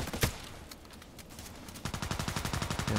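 Rapid gunfire in a shooter video game, a loud crack followed by sparse shots and then a fast automatic burst of evenly spaced rounds, near and dense.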